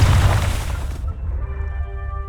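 A Confringo blasting curse detonates in Hogwarts Legacy, a loud, deep booming explosion that cuts off sharply after about a second, leaving faint ringing tones.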